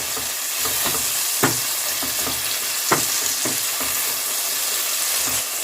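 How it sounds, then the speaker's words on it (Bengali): Tomatoes fry with salt in a hot pan, a steady loud sizzle broken by repeated scraping stirs and clinks of a spatula, with no voices. "টমেটোটাকে ভেজে নেব টমেটোর মধ্যে এবার নুন দিয়ে দিচ্ছি"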